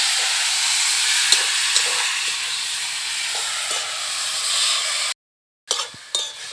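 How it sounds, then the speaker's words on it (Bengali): Cabbage and tomato hit hot spiced oil and fry with a steady, loud sizzling hiss that holds for about five seconds, then cuts out briefly and returns with a few stirring scrapes. "মশলাটা ভাজা হয়ে গেছে, এবার কপি আর টমেটো দিয়ে দিলাম।"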